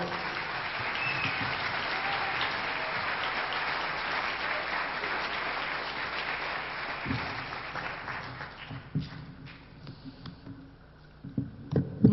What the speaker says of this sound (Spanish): La recibimos con un gran aplauso.